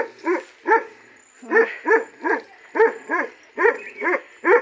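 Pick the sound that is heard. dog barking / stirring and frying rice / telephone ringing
dog barking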